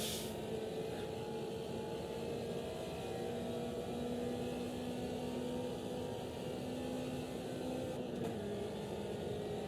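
A classic VW car engine in the racing game Automobilista 2 drones steadily at high revs, a sustained, rising mechanical hum with a brief shift near the end.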